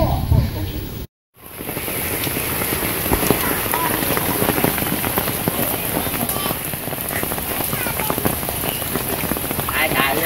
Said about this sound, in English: It's currently raining right now